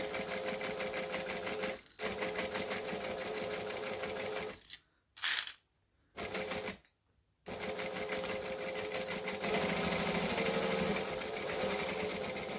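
A sewing machine stitches piping into the seam of a boom box airliner cabin bag, running in long steady bursts, close and loud, with short stops and brief pauses between runs.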